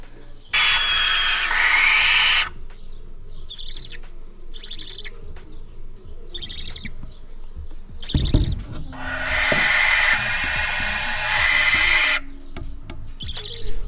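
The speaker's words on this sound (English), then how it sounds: "We were lucky to see those barn owl chicks, or what are they called, Lucas?" Barn owl owlets call in a series of harsh, hissing screeches, loud and close, coming in long bursts with short gaps amid other faint bird calls.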